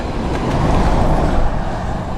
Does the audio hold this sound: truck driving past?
yes